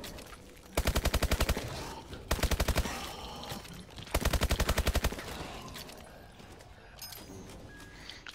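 Akimbo weapons fire in rapid automatic bursts in Exo Zombies, the Advanced Warfare zombie mode, three loud, evenly spaced volleys with quieter game noise between them.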